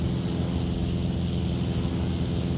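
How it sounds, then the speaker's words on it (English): Jet engine roar of an F-16 in a flight simulator game, a steady loud broadband rumble that holds constant as the aircraft passes close by. "I could hear you coming in that F-16."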